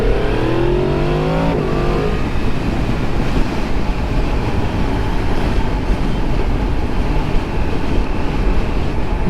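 A 2022 Yamaha MT-10 with its crossplane engine accelerates hard, the exhaust note climbing in pitch through quick gear changes and then holding a loud, steady roar mixed with wind rush, close by.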